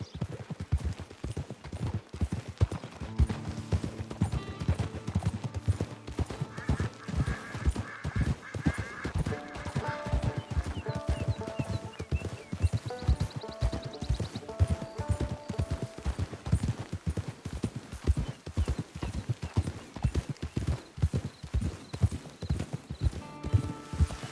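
Horse hooves clip-clop steadily in Red Dead Redemption 2 online gameplay, a brisk continuous rhythm over game background sounds, with occasional horse whinnies and no voices.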